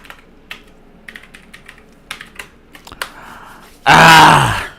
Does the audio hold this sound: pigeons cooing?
no